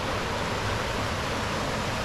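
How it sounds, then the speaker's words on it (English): A steady, broadband rush of water from a waterfall at a trout-filled overlanding campsite, even and unbroken like a sound machine, filling the whole moment with no voices. "waterfall."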